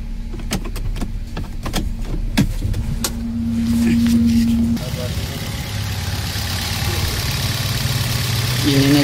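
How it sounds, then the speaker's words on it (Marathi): Hyundai Creta petrol engine idling smoothly after an ignition coil replacement, a steady low hum with a faint tonal whine and several sharp clicks and taps early on, while people talk nearby. "इंजिन एकदम स्मूथ झालेलं आहे."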